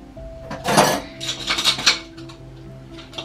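Dishes, food processor parts, a pressure cooker lid and spoons clatter and clink as they are loaded into a Voltas DT8S dishwasher, in bursts of close metallic and ceramic knocks over a steady hum.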